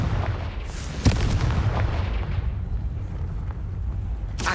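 Confringo fire spell from Hogwarts Legacy bursts with a sharp explosive crack near the start, a rumbling blast tail and a second crackling burst at the end over steady game ambience.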